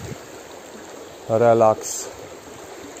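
Water of the Vistula river at Goczałkowice rushing as a soft, steady hiss in the background, broken briefly by a single spoken word midway.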